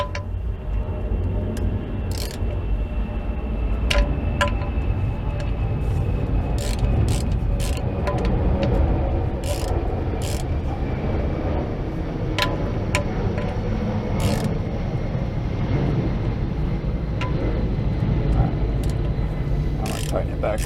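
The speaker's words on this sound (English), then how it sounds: "Now I'm going to loosen that oil drain plug and tighten it back up just to make sure" A wrench loosens and retightens the oil drain plug on a Nissan Sentra, giving sporadic sharp metallic clicks and ratcheting ticks over a steady background hum.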